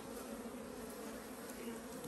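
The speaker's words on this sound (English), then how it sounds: "You're just knocking the bees off." Honey bees buzz as a steady, dense drone while frames are handled and bees are knocked off during summer honey extraction, heard up close with no talking.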